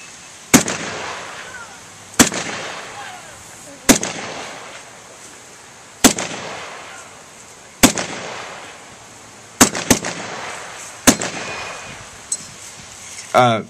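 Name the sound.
M1 Garand rifle firing, en bloc clip pinging out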